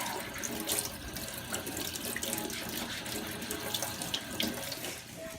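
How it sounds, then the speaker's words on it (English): Potatoes being washed under a running kitchen tap, a steady close rush of water splashing into a sink with small shifting splashes throughout, and no voices. "So these have to be really washed good because,"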